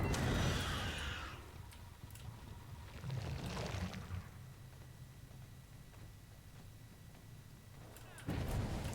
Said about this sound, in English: And there you go, you get the explosion